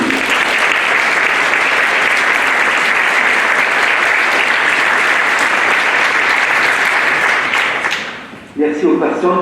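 A church congregation gives sustained, dense applause at a Mass in Saint André de la Roche, steady and loud for about eight seconds before it tapers off abruptly.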